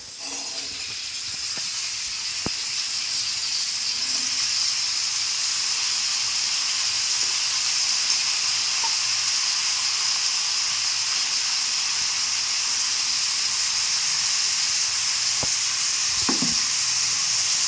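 Tomatoes fry in a hot pan for a tomato and drumstick (munagakaya) curry, a steady close sizzle running the whole time with a few faint clinks of a stirring spoon.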